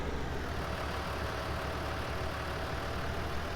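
A modded tractor in Farming Simulator 19 idles with a steady, low engine drone that holds at an even level throughout, with no voices over it.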